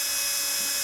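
Small power drill running close up as it drives screws out of an FS GT3B radio transmitter, a steady high-pitched whine lasting under a second with no talking.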